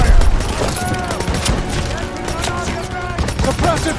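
Gunfire and explosions in a World War II Call of Duty battle, a dense, continuous clatter of rifle and machine-gun shots with booming blasts, loud and busy under shouted voices.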